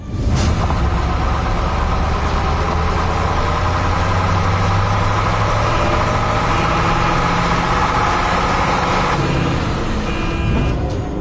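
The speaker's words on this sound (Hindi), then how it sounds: "ट्रक तेज हॉर्न मारता हुआ बारातियों के बीच से गुजरता है।" A truck engine rumbles steadily and loudly for about ten seconds, with a low heavy drone and mid-range motor hum that hold constant without voices.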